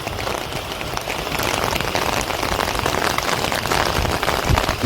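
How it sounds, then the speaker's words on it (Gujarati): Steady wind-driven rain patters densely on a surface in a village, a continuous hiss that swells slightly louder toward the end, with no voices. "પવન હારે છે વરસાદ પવન"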